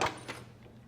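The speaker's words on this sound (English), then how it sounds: "Let's open the door." The door of a 1968 Pontiac GTO convertible opens with a short, close latch click, followed by a second softer clunk and a quiet tail, with no voices.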